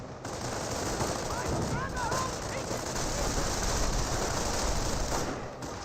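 Sustained MG42 machine gun fire in the Company of Heroes real-time strategy game, a dense, continuous rattle of rapid bursts that keeps going throughout over a busy battlefield din.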